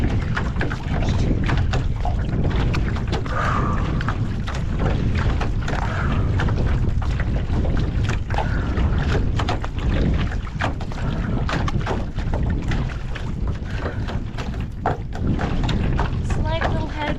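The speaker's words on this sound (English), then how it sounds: "Slight little headwind, quartering." Quartering headwind buffeting the microphone during a one-mile repeat run, a loud continuous rumbling roar with gusty bursts throughout, with speech faintly underneath.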